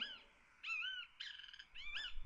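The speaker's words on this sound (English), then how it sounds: "It's a great kiskadee." A great kiskadee calling outdoors: three or four bright, harmonically rich call notes in quick succession over about two seconds, clear and fairly close against a quiet background.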